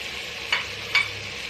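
Tomatoes fry in a pot for chicken handi, giving a steady hiss broken by two brief, sharper stirring scrapes; no one speaks.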